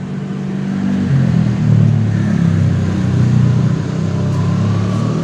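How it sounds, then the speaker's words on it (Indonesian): A motorcycle engine runs close by with a loud, steady low rumble that rises slightly and holds for several seconds, after a new charging spool has been fitted. "sekarang kita nyalakan motornya ya"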